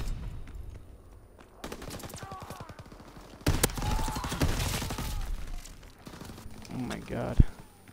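Gunfire during a Call of Duty: WWII multiplayer match on the Gröesten Haus map, with bursts of rapid automatic fire and a sharp close shot, loud and dense over game noise and radio-style voices.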